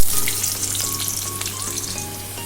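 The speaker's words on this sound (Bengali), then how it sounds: "আলু ভাজা হয়ে গেছে, এবার আমি তুলে নেব।" Potato pieces sizzle loudly in hot oil, a dense close hiss and crackle that starts strong and eases slightly, with light stirring sounds and no talk.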